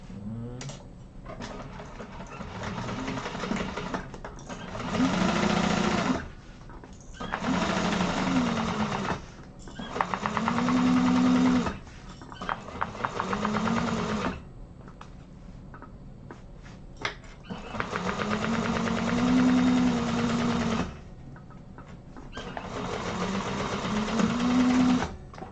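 A sewing machine top stitches a satchel in repeated loud, steady bursts of rapid mechanical clatter lasting one to three seconds each, separated by short pauses while the fabric is repositioned.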